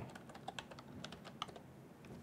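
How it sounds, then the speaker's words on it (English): Typing on a computer keyboard, a quiet run of quick, irregular key clicks with a few sharper taps, close and alone without any talk. "just start typing"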